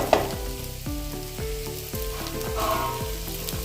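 Chopped vegetables tipped into hot spiced oil for a boiled chicken dish, sizzling loudly and steadily with repeated stirring scrapes every half second or so, no voices.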